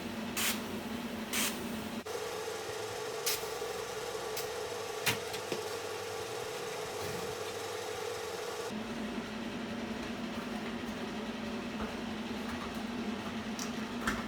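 A welder sets down rust-repair welds on the wheel arch of a 1990 Dodge Ram pickup, producing a continuous crackling, spraying hiss with slight shifts in tone and a few sharp pops, steady and moderately close.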